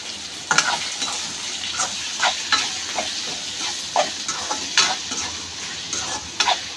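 Onions fry in hot oil in a pan for a brinjal thokku, a steady bright sizzle broken by about a dozen scraping strokes of a spoon stirring them.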